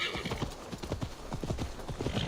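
Horse hooves clip-clop at a steady trot through a town street in Assassin's Creed Valhalla, close and clear, with an occasional faint whinny and no talk over it.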